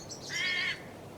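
A single hooded crow gives one loud, harsh, drawn-out caw from a tree close by, a rasping call lasting under a second over quiet outdoor background.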